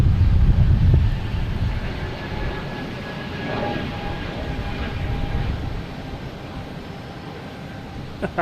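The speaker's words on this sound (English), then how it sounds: "next taking off is an A220 JetBlue heading to Detroit" A JetBlue Airbus A220 bound for Detroit takes off from Boston Logan, its engine rumble strong at first and then fading to a steady distant roar with faint tonal whine. Faint voices can be heard now and then underneath.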